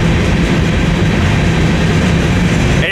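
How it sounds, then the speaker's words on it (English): An empty BNSF grain train rolls past eastbound at close range, a loud, steady rumble of railcars with a faint rhythmic clatter of wheels throughout. "Yeah, YouTube didn't expect this grain train."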